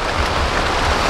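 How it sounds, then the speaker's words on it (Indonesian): Heavy rain pours onto a camping tent in Borneo, a dense, continuous close hiss of drumming drops with no voices. "Nah sekarang kita lagi ada di suasana hujan."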